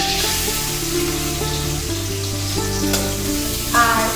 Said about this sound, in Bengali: পেঁয়াজটা এখানে ভাজা হচ্ছে